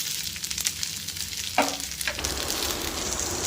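Instant sooji rava dosa frying on a hot pan over high heat, a continuous close sizzle broken by a few scraping taps of a spatula, no talking.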